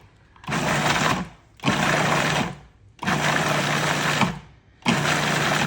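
A food processor pulses eggplant and olive oil for baba ghanoush in four loud motor bursts, each about a second long, separated by short gaps of near silence.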